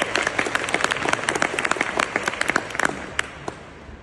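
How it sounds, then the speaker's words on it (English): A crowd at a water treatment plant opening gives a warm round of applause, a close, lively clatter of individual claps that gradually thins out over a few seconds. "Please give him a warm round of applause"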